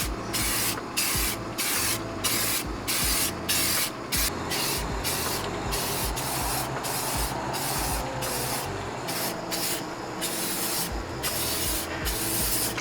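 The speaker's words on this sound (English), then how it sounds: "I'm spray painting them" Aerosol spray paint hisses in repeated bursts as a car cowl is coated satin black, each close, loud spray separated by short pauses in a steady on-off rhythm, with no talking.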